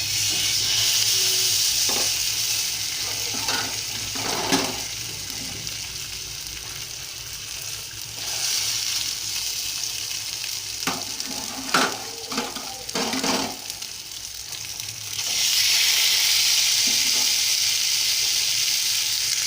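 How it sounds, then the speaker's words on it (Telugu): Fish sizzles and fries in about two tablespoons of oil in a pan, a steady loud crackle throughout with occasional sharper spatters and stirring clicks, swelling louder near the end. "దాని మీద నేను ఫిష్ వేస్తున్నాను."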